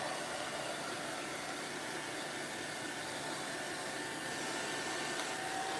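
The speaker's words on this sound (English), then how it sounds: "I know how to use a hair dryer" A hair dryer blows continuously, a steady loud whooshing hum with no breaks, close by.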